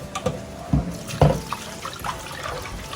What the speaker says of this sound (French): Je rince mon riz.